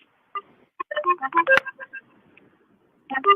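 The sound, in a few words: phone ringing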